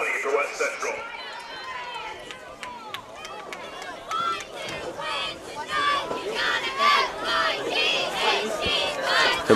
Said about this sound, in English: Not only do we got a full crowd up here in the stands, but we got cheerleaders supporting both teams